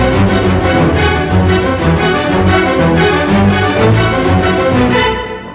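A Lydian-sounding melodic run of notes plays over a sustained harmonic chord, bright and loud, with evenly paced note changes.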